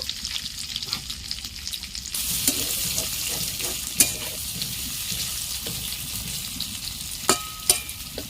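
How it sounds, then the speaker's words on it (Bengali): Potatoes fry in the oil left over from frying prawns, a close, steady sizzle that swells after a couple of seconds, with scraping stir strokes and a few sharp utensil clinks. "ওই তেলের উপরেই আমি দিয়ে দিচ্ছি আলুটাকে একটু কষিয়ে নেব"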